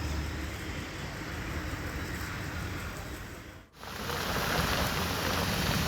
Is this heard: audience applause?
no